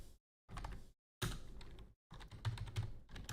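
Typing on a computer keyboard in short close bursts of rapid clicking, broken by brief dead-silent gaps, with an occasional heavier key thump and no voices.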